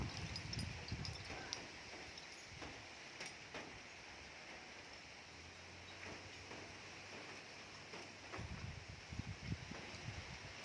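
Wind gusting through leaves in rainy outdoor weather, a steady windy rush with rustling that swells and eases over about ten seconds, fairly close, with no talking.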